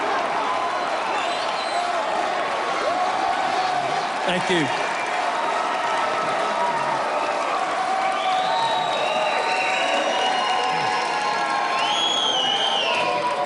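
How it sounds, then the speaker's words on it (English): A large, enthusiastic rally crowd in Minnesota cheers, whoops and applauds steadily and loudly throughout, a dense wall of claps and shouts with someone briefly speaking over it. "He's got a very enthusiastic crowd lined up in Minnesota."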